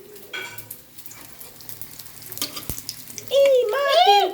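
French fries frying in hot oil in a home kitchen give a watery, crackling sizzle that swells louder toward the end, joined by a brief high-pitched warbling sound.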